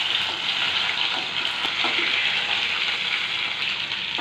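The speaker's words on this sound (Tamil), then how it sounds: "இந்த ஆயிலே நல்லா ஃப்ரை ஆகட்டும்" Boiled potatoes with cumin fry in hot oil, giving a steady, loud, close sizzle with a watery hiss that holds without a break and has no voices over it.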